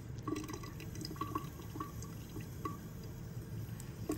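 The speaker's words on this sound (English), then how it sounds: "Another fun way to demonstrate air pressure is by taking your Harbottle and actually putting water inside the balloon." Water pours into a balloon stretched inside a plastic bottle, a steady trickling, filling flow close by with small splashy drips, continuous for several seconds with no talk.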